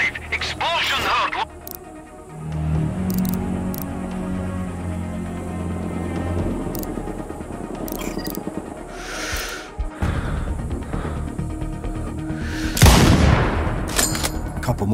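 Explosions and gunfire in the video game Sniper Ghost Warrior Contracts 2, blasts booming over a background of game ambience and radio chatter, with a big burst near the end.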